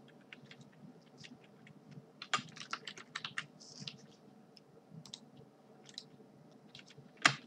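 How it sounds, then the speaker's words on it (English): Typing on a computer keyboard while writing a PHP login page, a quiet, close run of irregular key clicks with a few sharper taps and no talking. "Just going to type in login"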